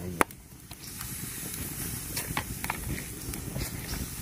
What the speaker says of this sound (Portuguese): O fogo aqui, gente, ó.